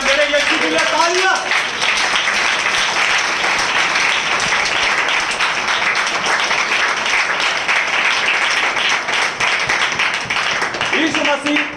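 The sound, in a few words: congregation applause for Jesus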